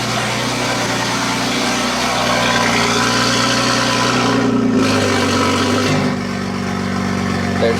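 A Toyota Supra's engine idles steadily and loud up close, a sustained low rumble that dips briefly and then settles back into an even idle with no talking.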